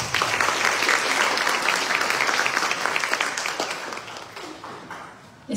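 Loud applause and clapping from the audience at a school academic-year opening ceremony in Chilca, holding strong and then tapering off before a voice starts.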